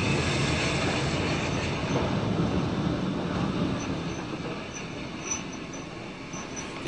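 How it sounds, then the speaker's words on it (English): Steam locomotive running light to shed at Salisbury in the mid-1960s, a steady rumbling roll of wheels and chuffing at moderate distance, gradually fading, with no talk. "Royal Observer Corps detaches after arrival from Waterloo and runs light to shed."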